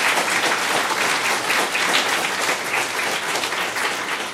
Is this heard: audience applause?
yes